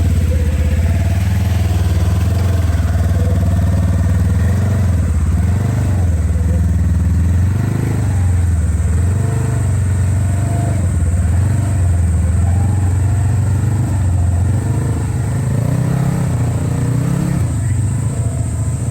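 A Polaris General XP1000 off-road vehicle drives a forestry road, its engine droning steadily and loudly throughout with rising and falling revs, under rattling and wind. Occasional voices are buried in the noise.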